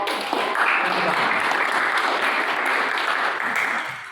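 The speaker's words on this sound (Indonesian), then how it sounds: "Aplaus untuk kelompok." An audience gives a debate group a dense burst of sustained applause, fairly loud and even, tapering off at the end with some voices mixed in.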